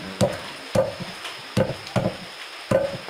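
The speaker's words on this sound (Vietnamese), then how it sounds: "Đang băm cổ à" A cleaver minces chicken neck on a cutting board while chicken blood pudding is prepared, giving about seven sharp, close chops in an uneven rhythm with short pauses between strikes.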